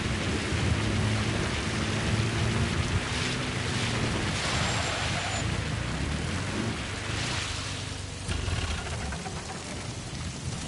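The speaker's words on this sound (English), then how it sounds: "It's raining." Steady rain in Metal Gear Solid V: The Phantom Pain, a dense, even hiss that fills the whole stretch, with a low rumble beneath and no voices.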